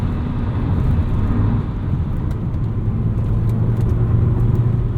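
A 1997 Volvo 850 R with a manual five-speed cruises along, its engine a steady low hum blended with continuous road and wind noise from inside the car, no voices.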